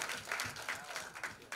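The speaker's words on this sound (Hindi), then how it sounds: "Anu sir के लिए भी जोरदार तालियां हो जाए" Applause at a film trailer launch event, short and fairly faint with irregular bursts of hand claps from the audience.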